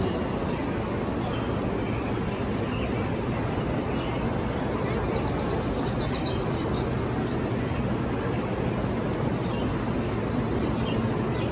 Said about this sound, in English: So this is the Sounds Garden, and there's sounds of birds.